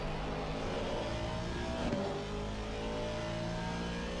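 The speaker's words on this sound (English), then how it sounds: "Do love the sound of this Aston. My favorite GT3 cars." The V8 engine of an Aston Martin V8 Vantage GT3 race car at Brands Hatch in a sim racing game, a throaty, steady roar under load, with a brief swell midway.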